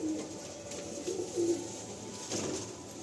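Pigeons at a pigeon sale coo softly in a few low, rounded bursts over a faint background hum.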